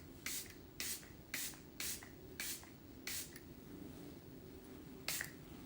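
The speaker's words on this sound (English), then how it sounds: "We're going to spray." Makeup setting spray misted in short, evenly spaced hisses, six quick pumps in a row and one more after a pause, over a steady low room hum.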